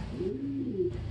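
A pigeon hen gives a single soft, close, rolling coo that rises and falls over about a second against low background hum.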